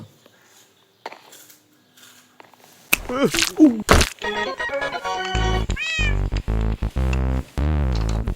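Cat meowing in Minecraft, several clear repeated meows arriving after a quiet start, loud and close, mixed with game sounds and someone talking over them.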